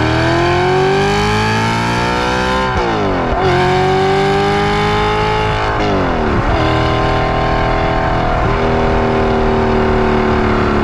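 An Audi R8 engine revs loudly and continuously with its exhaust valves open, pitch rising and dropping through several throttle blips with a deep, booming exhaust.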